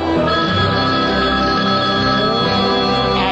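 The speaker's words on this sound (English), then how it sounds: "Celebrity line ringing." A studio phone line on a radio sports show rings with a loud, continuous trilling bell that fills the whole stretch, close and unaccompanied by talk.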